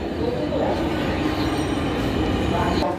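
A metro train pulls into an elevated station, its steady heavy rumble and rushing wheel noise filling the platform at a loud, constant level with faint brakes toward the end.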